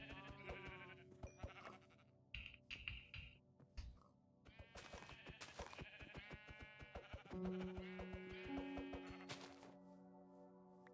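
Sheep bleating in Minecraft, a video game: repeated wavering baas, some overlapping, mixed with clicky game sound effects and tones, steady and fairly loud throughout.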